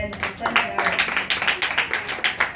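A church congregation claps in quick rhythmic bursts during a service, steady repeated hand claps at moderate distance, with voices talking or calling out over them.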